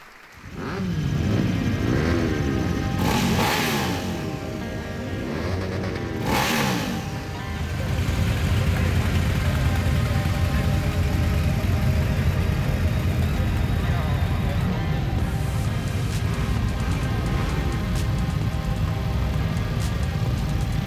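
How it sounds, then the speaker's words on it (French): Several motorcycle engines rev and rumble continuously, rising in pitch as they accelerate, with voices talking underneath, as motorcyclists set off on the road for a charity ride in Woustviller, France. "place au bruit de moteur"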